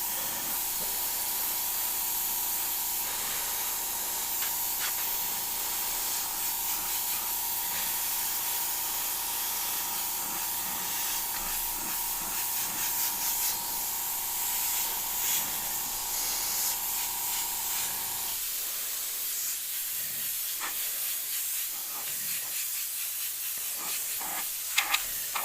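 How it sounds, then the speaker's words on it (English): An airbrush sprays paint for cloud shading on a Grim Reaper artwork, a continuous close hiss of air and spray that holds steady, with a faint background tone that stops partway through. "I want to kind of hardline the bottom a little bit, do that kind of classic airbrush cloud shading."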